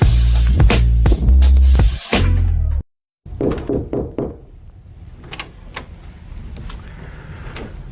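Sharp knocks rap on a door against a loud, dense backdrop, then a brief silence and a run of quieter thumps and knocks that fade into faint room noise.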